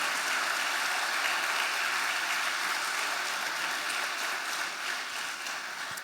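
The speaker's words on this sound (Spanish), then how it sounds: "le puedes dar un aplauso al Señor por esto" A church congregation applauds during a sermon, a dense, steady wash of clapping that continues evenly throughout without any talking.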